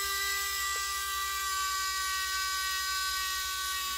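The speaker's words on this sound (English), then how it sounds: "Little engine revving here." A small battery-powered electric motor drives an Astroboy Blitzway DX figure bed up and down, giving a steady, close, high-pitched whine with a faint rhythmic hum underneath.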